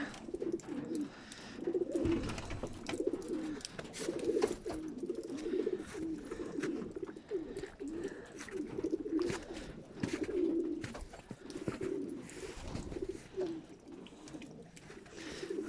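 Pigeons coo repeatedly in a loft in soft, rolling calls, several birds overlapping at a moderate distance, with faint rustling in the background.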